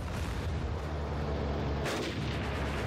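Tank cannon firing in the WW2 Online video game: a dense, loud boom with a rumbling tail fills the stretch, with a sharper crack near the end, no talk over it.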